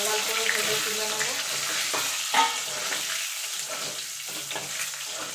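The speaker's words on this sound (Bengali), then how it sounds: "দিয়ে ডিমগুলোকে লাল লাল করে ভেজে তুলে নেব।" Four boiled eggs fry in oil with turmeric and salt for a hotel-style egg curry. Close, steady crackling sizzle is broken by occasional stirring knocks and a brief louder spatter partway through.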